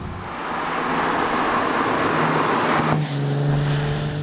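A 2016 Jaguar F-Type with a supercharged V6, driving: a loud, steady engine roar holds for a few seconds, then briefly dips as it shifts gear and settles into a lower, humming tone.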